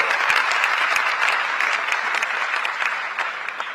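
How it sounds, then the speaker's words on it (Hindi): Loud, sustained clapping from a large audience at a university convocation ceremony, a thick steady roar of hands with crisp individual claps standing out, and no speech over it. "इसलिए चाहूंगी कि एक बार जोरदार तालियां आप सभी के लिए।"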